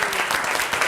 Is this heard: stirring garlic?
no